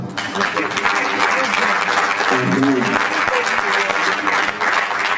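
Conference audience clapping at a business event, a steady wash of applause with some voices and a short low hum mixed in underneath.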